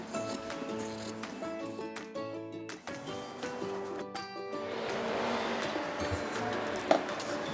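Scissors snip through cosplay costume fabric in quick cuts, close by, with music playing steadily underneath.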